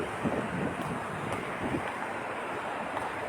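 Cold wind gusting during an outdoor walk, a soft, constant broadband rush with slight swells and no voices, faint and filling the whole stretch.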